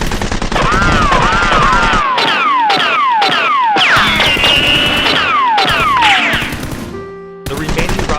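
Nerf guns firing in a staged shootout between robbers and a female SWAT officer, heard as loud, rapid overlapping bursts of shots with sweeping whistling effects, continuous for several seconds with a brief dip near the end.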